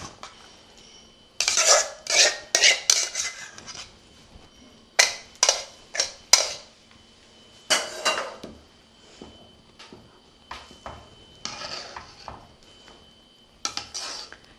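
A spoon scrapes and knocks around a cooking pot as cooked moong dal is stirred into thickened, reduced coconut milk for thengai therattipal, a Tirunelveli wedding-style sweet, in bursts of close, clattering strokes separated by short pauses.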